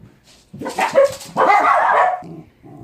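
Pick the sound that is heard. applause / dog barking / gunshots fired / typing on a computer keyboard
dog barking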